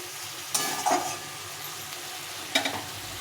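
Potato and pointed gourd pieces sauté in a little oil, with a soft continuous sizzle and two short bursts of spoon scraping and stirring against the pan.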